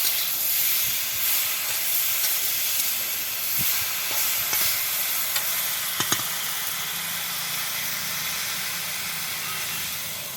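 Water coming to a boil in a pot with luffa gourd, a steady broad hissing simmer that runs the whole time with a few faint clinks from the kitchen.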